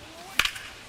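A bat clips a foul ball in the baseball video game MLB The Show 25, making one sharp crack followed by a quick secondary tick against a quiet background.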